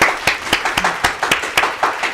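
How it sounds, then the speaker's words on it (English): Studio audience applause bursts out on a talk show welcoming guests from a local writers guild, a crowd of hands clapping steadily and fairly close for a couple of seconds with no talk over it. "Let's give a round of applause for them."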